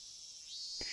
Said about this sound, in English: Outside it was still early enough for the cicadas to be crying.